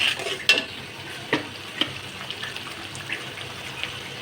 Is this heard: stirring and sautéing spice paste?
yes